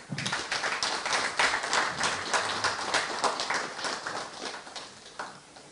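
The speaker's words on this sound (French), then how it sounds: "sous un tonnerre d'applaudissements" An audience bursts into applause at a conference launching an album, a dense, lively patter of many hands clapping nearby and fading slightly toward the end.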